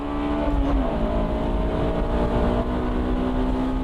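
A Honda Type R accelerates hard from the start on the old course of the Nürburgring in Germany. The engine note climbs, dips briefly at a shift, then holds a strong, steady roar close by.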